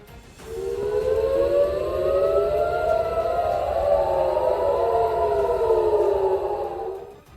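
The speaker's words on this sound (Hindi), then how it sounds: "रात के अंधेरे में हवाई हमले का सायरन बजते ही वहां अफरा तफरी मच गई।" An air raid siren wails over Tel Aviv at night, its loud rising and falling tones sweeping up and down steadily for several seconds, carrying with a distant outdoor echo and no voices.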